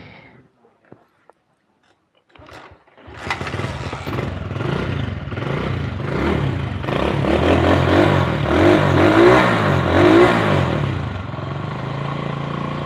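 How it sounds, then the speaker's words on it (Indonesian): A Honda Win motorcycle engine starts after a few quiet clicks and settles into a loud, rough, rattling idle that swells with repeated revs before easing back, heard close. "Oke, suara mesinnya"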